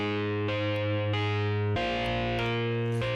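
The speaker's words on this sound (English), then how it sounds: "Add some distortion." A distorted bass amp sound from the GSi iOS app, driven hard, plays a few sustained, buzzing notes with sharp attacks, each ringing out before the next. It sounds alone with no talking.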